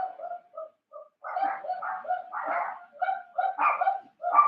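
Small dogs bark in quick, uneven bursts that overlap one another at moderate distance, filling the few seconds with steady yapping.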